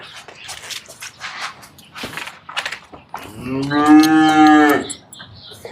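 A Jersey heifer lets out one long, loud moo near the end, after some quieter rustling and shuffling nearby.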